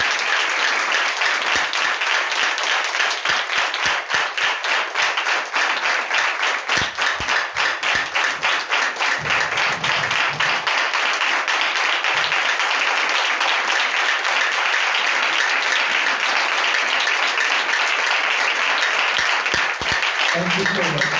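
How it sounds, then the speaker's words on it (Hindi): A church congregation at a Sunday special prayer meeting in Chembur claps to welcome a pastor, sustained dense applause at steady strength for about twenty seconds with a few voices near the end. "सो हम सभी मिलकर खुशी से ताली बजाकर उनका स्वागत करें।"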